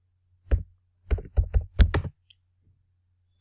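Computer keyboard keys tap in short close clusters of quick clicks and thunks, broken by brief pauses, with a faint steady hum underneath and no talking.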